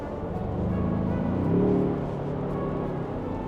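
A Ford Bronco's 2.3-liter, 300-horsepower engine running with a low, growly drone that swells briefly in the middle, steady and fairly close, with no talk.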